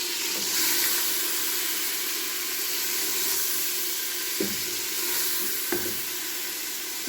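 Onion and tomato sauté in a pan for a homemade chicken curry, giving a steady soft sizzle broken by two brief stirring knocks.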